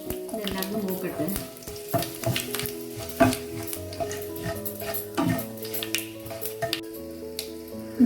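Chili powder and curry leaves fry in hot oil for a prawn roast, giving a close, continuous sizzle broken by frequent stirring scrapes and clicks of a spoon against the pan.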